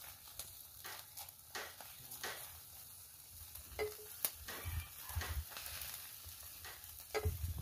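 Hotdogs sizzle and crackle over a smoky barbecue grill, a quiet, steady frying hiss broken by scattered pops, taps and scrapes as the food is turned, with no one talking.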